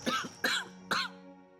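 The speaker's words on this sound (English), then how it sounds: "She turns away, whooping and hacking into her arm." A woman, a character in the video game Pillars of Eternity 2: Deadfire, gives three sharp, hacking coughs in even succession, close and clear, with nothing else underneath.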